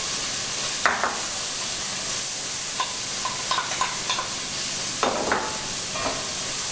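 Sausage, ham, onions, parsley and green pepper go into a sizzling roux for gumbo, making a constant soft frying hiss broken by several scraping stirs and small crackling bursts, with no talk.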